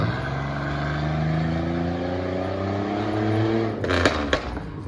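A Pontiac with its catalytic converters removed drones past with a deep, steady exhaust note that eases off, followed by a couple of sharp, loud pops near the end.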